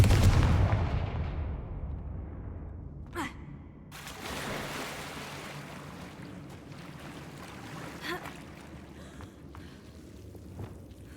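A Confringo fire spell explodes in Hogwarts Legacy with a loud, booming blast at the start that fades into a long rumbling tail, followed by a couple of sharper cracks and low background ambience.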